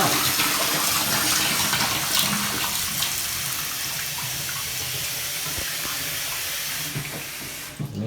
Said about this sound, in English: allow a few seconds to go by before that water actually comes out of the faucet